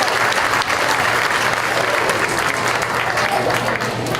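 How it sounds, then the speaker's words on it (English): Crowd applause at a county fair hog show in Mason County, a sustained, even clapping from the stands with a low steady hum underneath. "give yourselves a round of applause for that"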